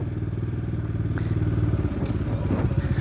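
Car engine idling with a steady low harmonic drone after the clutch and throttle are released during a turn, loud and continuous with some faint clatter on top.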